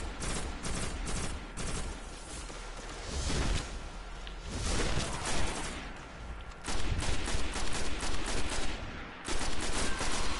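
Enemy gunfire in the video game Destiny, with dense rapid bursts of shots crackling close and loud almost continuously, broken by brief lulls.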